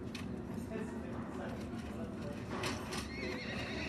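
A horse whinnies loudly over a rapid clip-clop of galloping hooves in the video game Mount & Blade II: Bannerlord, with busy background noise and a voice talking throughout.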